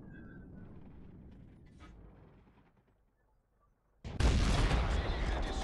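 A T57 Heavy tank cannon fires in a tank video game: one sudden loud boom after a quiet stretch, its heavy roar filling the last seconds.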